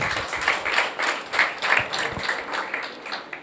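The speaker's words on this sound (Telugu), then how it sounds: "చప్పట్లు కొట్టండి ఒకసారి అందరికీ" A church congregation at a sermon gathering breaks into applause: a steady wash of many hands clapping, dense and sustained with rhythmic surges, moderately close, with no talk over it.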